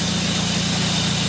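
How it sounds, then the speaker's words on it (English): Car engine fitted with twin SU HS6 carburettors idles steadily, a close, even broadband hum with a low rhythmic throb and hiss, no talking. "That's the engine running now."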